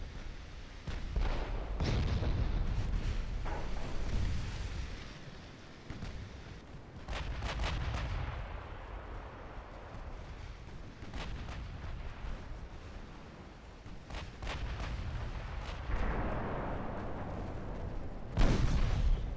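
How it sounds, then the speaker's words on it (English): Naval guns firing in Ultimate Admiral Dreadnoughts, a series of heavy booming salvos spread across the stretch, loud, irregular blasts with rumbling decay between them. "I need all of you to be shooting your guns at this guy"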